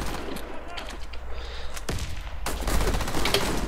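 Gunfire rattles in a Warface online shooter match, with dense bursts of shots and sharp cracks, loud and close. Someone talks at moments between the shots.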